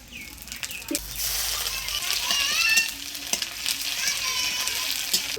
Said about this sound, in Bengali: এবার ডালে ফোড়নে দেব শুকনো লঙ্কা তেজপাতা থেতো করা আদা আর পাঁচফোড়ন